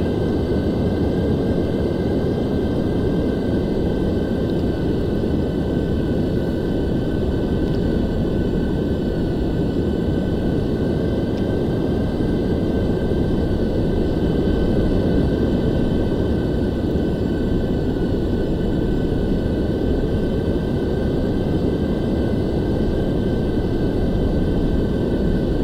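T-2 Buckeye jet aircraft rolling out toward the active runway after the parking brake comes off, its engine giving a loud, steady roar and whine that stays constant throughout, close by and without talking.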